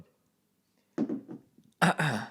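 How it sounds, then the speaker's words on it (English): A man clears his throat twice, close to the microphone: a short rough rasp, then a louder, longer guttural clearing after a pause, in an otherwise quiet room. "I was clearing my throat because I had a lot to clear"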